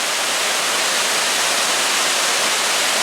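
Waterfall at Owen Sound, heard as a steady, full broadband rush of falling water that stays even and unbroken throughout, with no voices.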